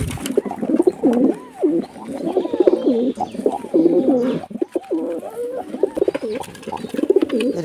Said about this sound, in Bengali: আরও কিছু পায়রা তোমাদেরকে দেখাবো।